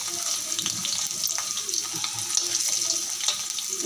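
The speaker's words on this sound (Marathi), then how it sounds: "तेल गरम झालं आहे, त्यात आपण ठेसलेलं आलं व लसूण घालते।" Crushed ginger and garlic hit hot oil, giving a steady, close sizzle with a dense crackling hiss that runs throughout without pause.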